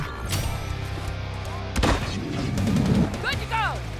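Gunfire in the Call of Duty video game, with sharp shots and bursts scattered among in-game voices, a loud blast near the middle, and whistling effects toward the end.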